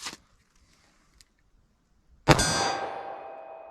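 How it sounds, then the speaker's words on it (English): A magazine drops out of a Taurus G2C .40 pistol and strikes a hard surface, one sharp metallic clang with a ringing decay after a few faint handling clicks. "the mag fell out on this one too"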